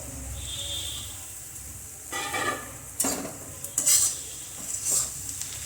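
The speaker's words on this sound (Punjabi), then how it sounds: "ਨਾਲ ਹੀ ਪਾ ਦਾਂਗੇ ਆਪਾਂ ਟਮਾਟਰ" Tomatoes are tipped into frying paneer bhurji masala in a dhaba-style pan and stirred, giving a soft sizzle with a few scraping spoon strokes and utensil clinks close by, with no talking.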